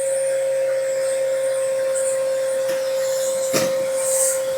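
A Makita shop vacuum hose sucks up leaves and a pine cone, giving a steady, loud whine with raspy scraping and a few sharp knocks of debris rattling through the hose.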